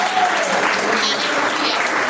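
A church congregation applauds in worship, a dense, steady wash of many hands clapping at even loudness throughout.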